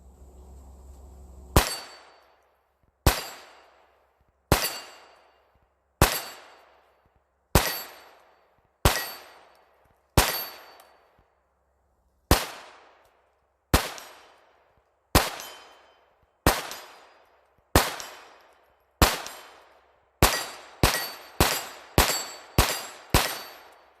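A Taurus TX22 .22 pistol fitted with a Galloway +9 magazine extension fires about twenty sharp, ringing shots at an outdoor range, each followed by a decaying echo, spaced at first and then coming in a fast closing burst.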